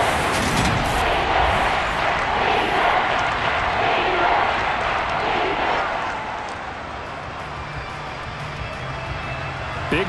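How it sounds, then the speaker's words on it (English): A stadium crowd roaring in a Madden NFL 23 Raiders vs Seahawks game simulation, a loud continuous roar that eases off partway through, with a commentator talking over it. "That just means this crowd's going to get even louder."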